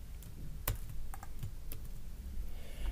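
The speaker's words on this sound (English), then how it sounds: "select the red image and press Ctrl-V to paste the green image in as a separate layer" Computer keyboard keys are pressed for shortcuts such as Ctrl-V, giving a handful of sharp, separate clicks at an uneven pace over a quiet room.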